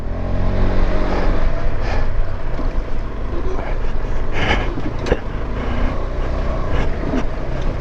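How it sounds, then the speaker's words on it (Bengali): Motorcycle on an off-road mountain ride, loud continuous engine roar with rising throttle surges, heavy wind buffeting the microphone throughout. "থ্রটলটা ফিল করো, থ্রটলের আওয়াজটা ফিল করো।"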